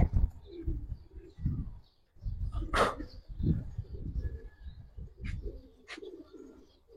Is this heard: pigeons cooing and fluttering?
yes